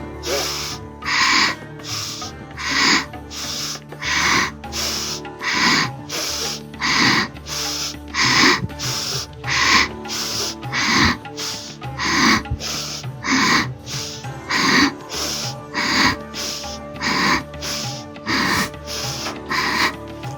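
Energizing yoga breathing: a long series of quick, forceful, evenly spaced breaths through the nose, loud and close, pulsing steadily with no talk.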